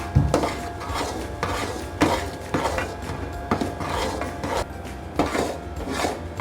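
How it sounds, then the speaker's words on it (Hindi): A spoon scrapes and stirs a thick besan barfi mixture in a metal pan, making repeated rhythmic scraping strokes roughly every second, close and clear, with no talking. "बहुत अच्छे तरीके से तेज़ी से चम्मच चलाते जाना है"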